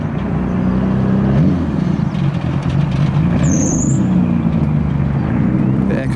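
A JDM car in a convoy drones steadily nearby, its engine note echoing off a lorry alongside, with the pitch rising and falling slightly as it cruises.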